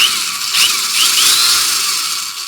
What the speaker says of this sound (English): very old, very powerful drill